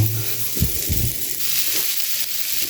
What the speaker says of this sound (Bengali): আলুটা আমার সুন্দর মতো ভেজে নেওয়া হয়ে গেছে